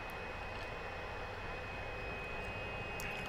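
Right jet engine of a Fouga CM.170 Magister spooling up during a cold start in Microsoft Flight Simulator, a faint, steady whine with a constant roar beneath, alone without talk.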